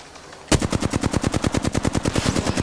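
A rapid, loud burst of automatic gunfire fires at a cargo bot in Apex Legends, a fast, evenly spaced stream of shots starting abruptly and continuing without pause.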